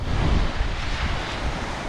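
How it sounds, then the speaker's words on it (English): Wind rising at Pennefather Beach buffets the microphone in a loud, constant roar, blended with the wash of surf. "The wind is starting to pick up a little bit"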